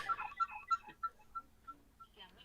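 A phone notification chime sounds during a video call, a series of short evenly spaced electronic beeps, fairly faint, with light background noise.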